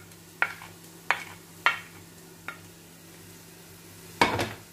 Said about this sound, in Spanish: Seguimos sofriendo